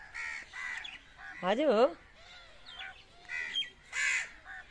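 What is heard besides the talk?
crow cawing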